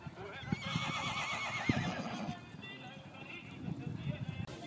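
A horse whinnies with a wavering, high neigh over crowd noise and a man announcing at a horse show where a colt and filly are presented.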